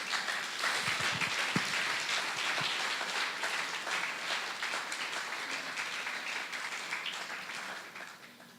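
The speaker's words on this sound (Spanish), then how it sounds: "Dale un fuerte aplauso al que vive." Sustained church congregation applause, a dense wash of clapping that holds steady for several seconds before fading slightly at the end.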